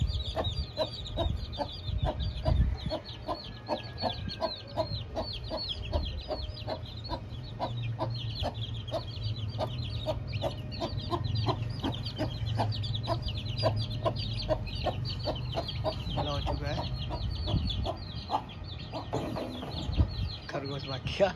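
Chickens cluck steadily and rapidly over a constant low rumble, with a few brief louder squawks mixed in.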